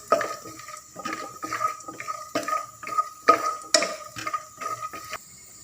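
Cashews and almonds are sautéed in hot ghee in a pan, stirred with quick, regular scraping strokes that clatter close up over a light sizzle, with no voices.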